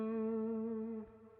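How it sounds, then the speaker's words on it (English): A sustained, harmonically rich synth-like note passes through the hall reverb of IK Multimedia MixBox. It holds steady, then drops off, leaving a quieter reverberant tail. "Let's go to the hall reverb."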